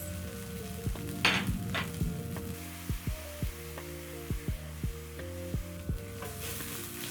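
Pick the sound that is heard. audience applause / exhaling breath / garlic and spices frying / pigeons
garlic and spices frying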